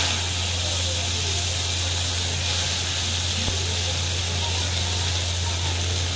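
Cluster beans (gavar) sizzle in hot oil in a kadai, a steady close frying hiss with a low constant hum running underneath, no talking.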